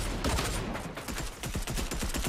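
Rapid, continuous gunfire from Fortnite fills the whole moment, a dense, loud volley of overlapping shots with no pauses and no talking.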